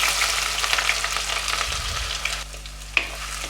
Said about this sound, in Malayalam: ഇനി ആദ്യം നമുക്ക് ഇഞ്ചിയും വെളുത്തുള്ളിയും ചതച്ച് വെച്ചിട്ട് അത് ആഡ് ചെയ്ത് കൊടുക്കാം.